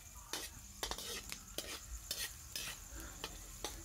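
Garlic stir-fried in a pan for chop suey, quiet sizzling broken by a series of sharp utensil clicks and scrapes against the pan at an irregular pace, fairly faint and without speech.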